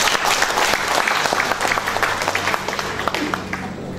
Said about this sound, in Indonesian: kita kasih aplaus kepada para narasumber kita